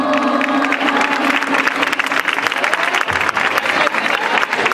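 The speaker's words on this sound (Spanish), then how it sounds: "un aplauso por favor" An indoor audience claps steadily for a public event marking the International Day for the Eradication of Poverty in Ciudad Real. The dense, even applause lasts throughout with no pauses.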